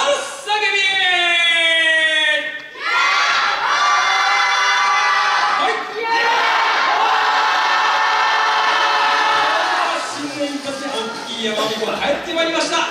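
An audience at a YOSAKOI dance festival in Miyagi shouts back a loud echo call, with long sustained group shouts that fade and rise again, followed by softer scattered voices.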